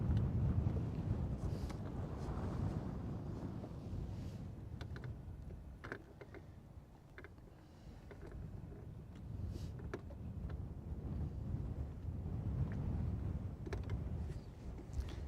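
A breeze blows across Lake Guntersville as a low, steady rumble that buffets the microphone, rising and falling slightly with faint creaks and no talking.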